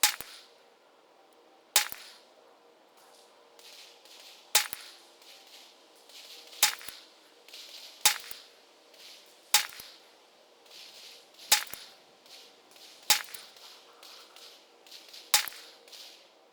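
Nine 9mm pistol shots with Winchester Super Suppressed 147 grain subsonic ammunition at a 50-yard range, sharp cracks spaced about two seconds apart, each followed by a faint ringing tail.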